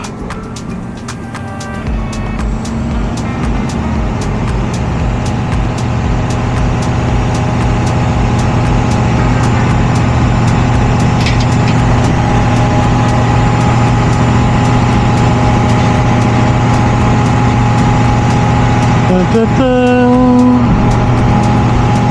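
A heavy dump truck's diesel engine runs loud and close, its drone climbing and holding steady as the PTO-driven hydraulics lift the tipper body, with no talking.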